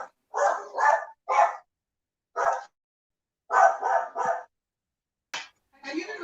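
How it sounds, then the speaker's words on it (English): Dogs barking at home, a string of sharp, fairly close barks in quick clusters with short silent gaps between them. "my dogs are barking right now."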